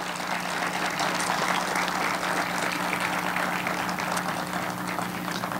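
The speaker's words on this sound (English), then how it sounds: "Let's give Brandon a round of applause tonight." An audience applauds steadily through a governor's address to the legislature at Southern University, a dense, even wash of clapping from a distant hall that lasts several seconds.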